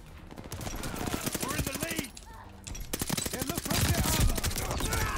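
Rapid automatic gunfire in the online shooter Call of Duty Vanguard, with dense bursts of shots repeating close and loud across the whole stretch and a brief lull in the middle.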